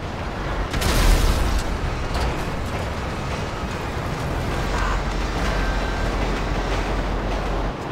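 A train accident in the video game GTA 5 comes as a loud rumbling crash with a heavy booming impact near the start, followed by a sustained grinding roar.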